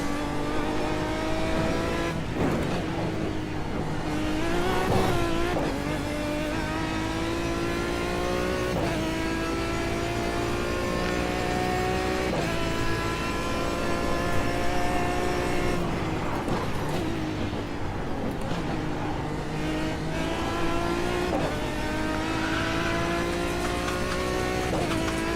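A GT3 race car engine in the iRacing video game screams continuously, its pitch climbing through the gears and dropping sharply at each shift, with occasional brief tire squeals.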